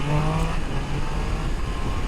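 2024 Triumph Daytona 660 motorcycle with a quick shifter accelerating at about half throttle, a loud steady engine roar with a rising tone that drops briefly as it shifts up, close and continuous.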